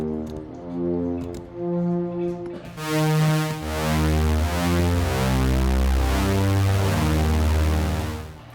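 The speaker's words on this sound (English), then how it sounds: "saw waves that are a little bit detuned" A synthesizer pad built from a stack of slightly detuned saw wave oscillators plays sustained, shimmering chords. The tone is thick and moody, and it swells up loud and alone after a brief quieter opening.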